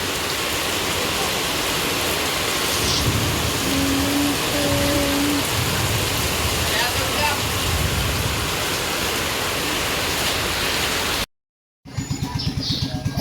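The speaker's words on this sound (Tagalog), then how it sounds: "Grabe, ang lakas ng ulan." Heavy rain pours down steadily, a dense loud roar of drops hitting surfaces, with a brief silent break near the end before the downpour resumes.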